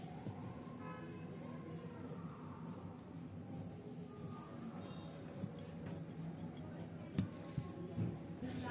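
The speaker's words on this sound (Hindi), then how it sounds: "सभी फैब्रिक जो है जो एक्स्ट्रा का होता है उसे हम काट लेंगे" Scissors snip through the extra fabric of a blouse piece with light, irregular cuts, set against a steady background hum and a few sharper clicks near the end.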